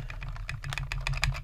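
Rapid typing on a computer keyboard while entering text in Microsoft Word, a quick, uneven patter of close, crisp key clicks heard alone.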